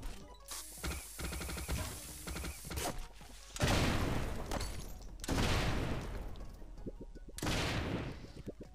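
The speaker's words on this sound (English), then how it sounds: "I got the grenade launcher, which absolutely kicks ass." Grenade launcher firing in Turnip Boy Robs a Bank: loud booming blasts with rattling, crashing bursts and mechanical clicks between them, repeating in heavy waves with no talk.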